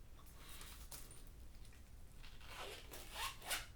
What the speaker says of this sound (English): Let's see if I can zip this closed.